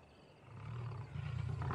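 Lions roaring in distress at night inside an enclosure, a low, rumbling roar that swells and holds for under two seconds, faint and distant-sounding with no talk.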